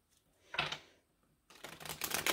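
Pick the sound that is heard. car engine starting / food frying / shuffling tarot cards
shuffling tarot cards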